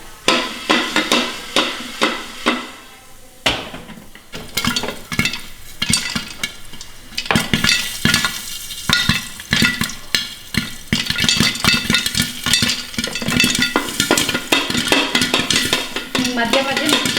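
Corn kernels pop into popcorn in a covered pan, with a dense, rapid run of sharp pops and rattles that thins briefly and then returns loud and close.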